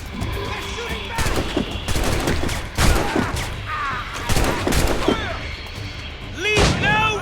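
A ship's crew fires broadside cannons and guns in a naval battle in Assassin's Creed Rogue, with a series of heavy booming shots in irregular bursts, amid shouting voices and battle noise.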